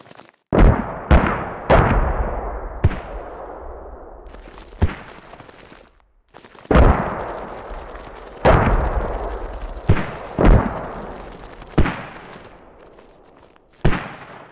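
Repeated gunshots in the Squad video game, about a dozen loud cracks at irregular intervals, each trailing into a long rolling echo, alone with no talk.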